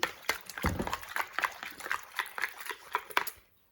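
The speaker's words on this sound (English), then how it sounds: "So I'm getting soap, just dish soap and water." Dish soap being mixed into water by hand: faint, irregular sloshing and splashing in a small container, a string of soft wet swishes that stops abruptly near the end.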